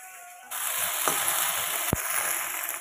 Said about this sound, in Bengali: এখানে আলু আর ঢেঁড়স ভাজছি